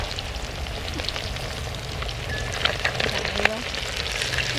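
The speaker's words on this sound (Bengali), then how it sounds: "দেখুন বন্ধুরা এখন মাছ ভাজছি মাছ ভাজা করে নিই" Large pieces of a 4-kilogram fish fry in hot oil with a steady crackling sizzle and scattered sharper pops, close and loud throughout.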